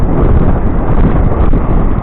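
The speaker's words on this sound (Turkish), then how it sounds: "rüzgar var şu an." Strong wind buffets the microphone on a windy beach at Elmasburnu in Riva, Beykoz, a loud, continuous rumbling roar with no breaks or voices.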